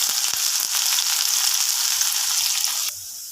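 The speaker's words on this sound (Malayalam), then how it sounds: "നമുക്ക് ഉള്ളി ഇടാം." Onions dropped into hot oil for a beef curry give a loud, steady, close sizzle that ends with a sudden drop near the finish.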